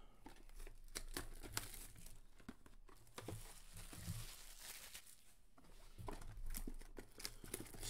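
Plastic wrap being stripped and torn from trading card boxes, repeated close crinkling and crackling bursts in an irregular rhythm, fairly quiet and with no talk.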